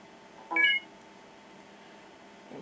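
A single short, bright electronic beep sounds from an iPhone or iPod Touch connecting to iTunes, then quiet with faint background hiss.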